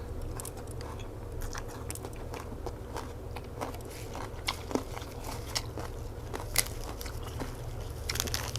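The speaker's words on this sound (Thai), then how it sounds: "บักพริกทอดกรอบนี่ก็กรอบดีดีนะคะ" Crispy fried chilies with papaya salad being bitten and chewed close up, giving repeated dry crunches and crackles over a low steady background hum, with no talking.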